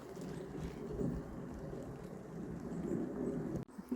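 Rain falls steadily on a home garden with a shed, a soft, continuous patter that is faint and even, ending with a brief knock.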